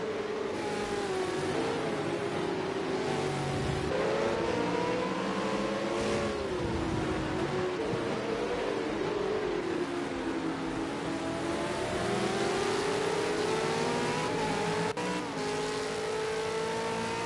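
Race cars in a PS5 Supercars racing game at Bathurst, their engines droning and revving without pause, pitch rising and falling as several cars run close together.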